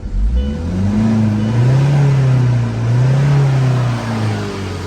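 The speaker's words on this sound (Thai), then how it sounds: "เครื่องติดนะเร่งได้ปกติ" Repaired Tata 2.2 diesel engine running steadily at close range, its idle note rising and falling through two smooth revs before settling, loud and continuous with no voices.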